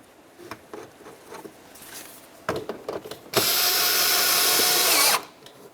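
Power tool driving an anchor bolt into the door of a 2012-2018 Nissan Altima during window regulator replacement: a few clicks and taps, then a loud steady whirring burst of about two seconds that stops abruptly.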